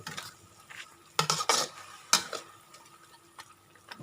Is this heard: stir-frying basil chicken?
yes